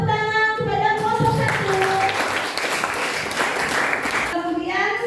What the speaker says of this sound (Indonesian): Tepuk tangan kepada kelompok